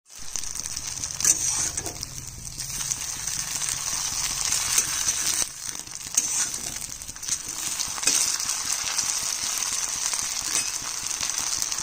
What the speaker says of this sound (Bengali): লঙ্কার বড়াটা দিয়ে দিচ্ছি।